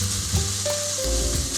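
Minced meat fries in a pan for a white sesame dandan noodle dish, a close, continuous sizzle with a faint stirring scrape and no talk.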